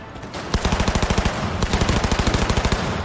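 Rapid bursts of automatic gunfire in the video game Cyberpunk 2077, loud and close, firing in quick regular rhythm with a brief pause before another fast volley.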